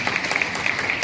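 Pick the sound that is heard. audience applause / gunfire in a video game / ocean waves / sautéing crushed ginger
audience applause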